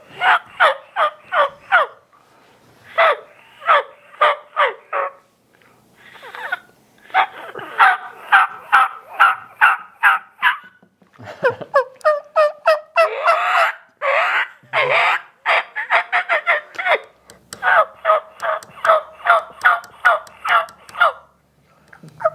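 A homemade turkey mouth call imitates a turkey, giving repeated bursts of sharp yelps, cuts and gobble-like rattles in quick rhythmic runs with short pauses, close and clear.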